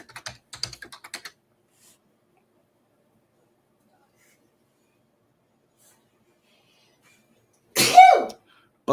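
Light keyboard tapping at the start, then a long quiet pause before a single sharp, close sneeze near the end.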